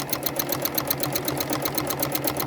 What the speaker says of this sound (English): to this point that we've already stitched at previously, and then quilting to the centre and back to that point